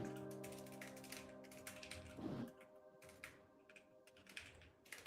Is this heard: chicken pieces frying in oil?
no